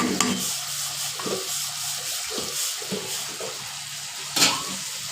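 Bitter gourd fry with garlic sizzling in a pan, stirred in rhythmic scraping strokes every half second or so, close and steady, with a louder scrape near the end.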